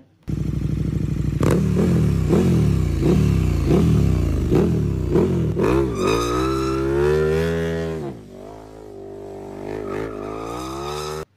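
A motorcycle engine rumbles loud and close, revving in repeated surges before rising to a high whine and then settling to a steady idle as it pulls up, with no voices over it.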